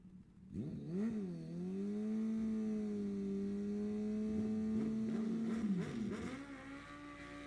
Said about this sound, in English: We have motorcycles rolling through the water now.